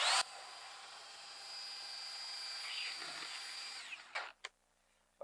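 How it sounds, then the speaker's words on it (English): A power sander works a wooden header on a shipping container build, producing a close, high, steady whine for about four seconds that then winds down into a few short knocks and near silence. "So if I dig in a little bit with the sander,"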